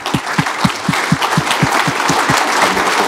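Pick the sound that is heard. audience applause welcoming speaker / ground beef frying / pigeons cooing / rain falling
audience applause welcoming speaker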